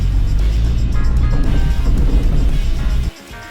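A Twisted Land Rover Defender's engine drones loudly and steadily under light throttle while driving off-road, with rumbling and knocks from the rough ground, then eases off abruptly near the end.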